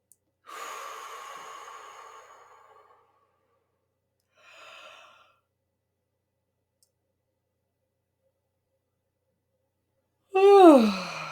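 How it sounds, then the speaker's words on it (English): A slow deep inhale and exhale through the nose and mouth, then a brief faint breath after a long silence, and a sharp sighing gasp at the end, all close and quiet. "we're just going to breathe nice big breaths"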